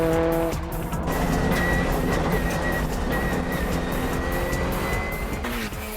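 A four-wheel-drive Subaru Impreza racing car corners hard, its engine roaring loud and close with tires squealing and skidding through the bend, the sound sustained for several seconds before easing off.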